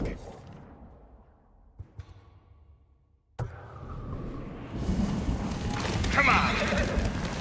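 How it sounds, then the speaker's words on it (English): A horse in the video game Ghost of Tsushima lets out a close whinny, then its hooves and movement rise into a busier stretch, with someone speaking during the clip. "Good horse, Kage."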